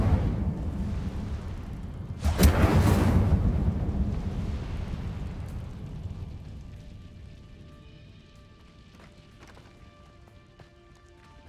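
An Incendio fire spell cast in the video game Hogwarts Legacy bursts out in a sudden loud whoosh, then trails into a fading rumble over a low ambient bed with faint later clicks.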